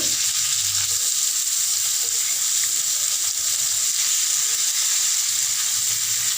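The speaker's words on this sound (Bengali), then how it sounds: "মাছটা ভালো করে ভেজে নেবেন।" Fish frying in hot oil in a pan, giving a loud, steady, close sizzle that hisses on without a break for the whole stretch, with no voices.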